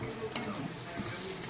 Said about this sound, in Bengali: আমার মশলাটা কিন্তু ভাজা হয়ে গেছে,